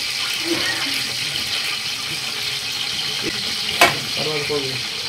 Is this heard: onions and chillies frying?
yes